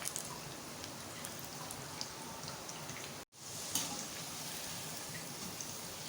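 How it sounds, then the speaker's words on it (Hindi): French fries for a masala fries recipe fry in hot oil, producing a steady close crackling sizzle like light rain, unbroken apart from one momentary dropout. "इसको अच्छी तरह से फ्राई होने देते हैं"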